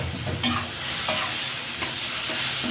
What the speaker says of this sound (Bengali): আমি 2-3 মিনিট ভাজা নিব।